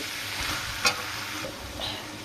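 Vegetables coated in ground spice paste stirred in a hot pan, a continuous close sizzle with one sharp spatula scrape and light stirring noises.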